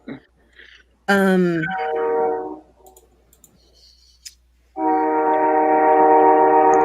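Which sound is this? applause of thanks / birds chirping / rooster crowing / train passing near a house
train passing near a house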